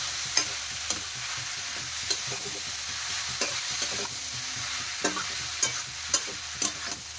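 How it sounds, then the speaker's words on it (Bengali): Vegetable momo filling with soy sauce, spices and chopped coriander being stirred in a pan, a steady sizzle with repeated sharp scrapes and taps of the spoon at irregular intervals, close and clear with no talking. "এখন আমি নেড়ে ছেড়ে ভালো করে মশলার সাথে মিশিয়ে নেব"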